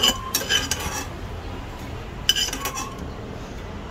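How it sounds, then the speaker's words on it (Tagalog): Corn kernels stirred with a spoon in a little oil in a pan for popcorn, two clusters of close metallic scrapes and clinks separated by a quieter stretch, with no talk. "babasahin ko lang ng oil yung kaunti yung mais"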